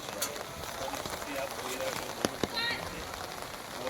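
Steady rain falls during a flood in Valsad, Gujarat, a dense hiss with a couple of sharp knocks partway through, while a voice speaks over it.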